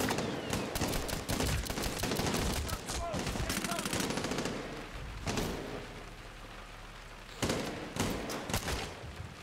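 Rapid automatic gunfire and single shots from the video game Medal of Honor Warfighter, with dense bursts of fire that pause briefly and then resume, loud and continuous against a background of battle noise.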